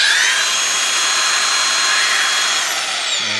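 A Makita DGA404 cordless angle grinder fitted with a 100 mm disc runs at full speed, giving a loud, continuous high-pitched whine that stays steady throughout with no talking.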